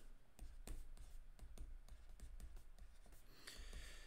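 Pen or marker writing during a C programming lecture, a steady run of quiet, rhythmic strokes and taps close to the microphone, with no talk over it.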